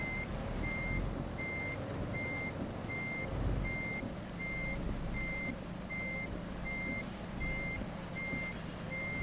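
In the Euro Truck 2 driving game, a truck's reversing alarm beeps at an even, steady pace about a dozen times while it backs into a parking spot, over a low rumbling engine idle, with no talking.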